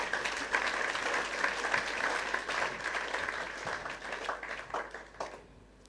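An audience of students at a party rally claps steadily and fairly faintly, a continuous patter of many hands with a few scattered louder claps, fading slightly toward the end.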